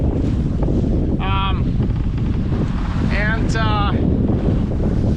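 Strong wind roars across the microphone aboard a sailboat beating upwind, a loud constant rush with sea and hull noise beneath and a few brief high squeaks or whistles.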